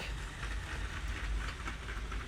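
A LEGO train pulling gondola cars runs along its track with a continuous close rumble and faint rhythmic clicking of wheels over the rails, no voices heard.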